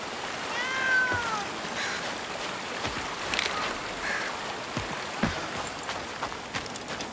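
Cat meowing in the video game Blacktail, a clear drawn-out meow near the start over a steady bed of rain and ambient noise, followed by fainter short sounds.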